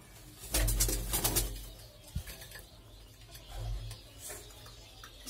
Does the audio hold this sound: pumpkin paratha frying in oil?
no